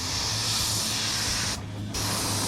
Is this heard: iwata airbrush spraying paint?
yes